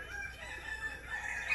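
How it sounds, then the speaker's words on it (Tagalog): Brahma chickens clucking and crowing in a brief, faint outdoor snatch of farmyard fowl calls. "Ito naman yung mga Brahma chicken mga kabumbay."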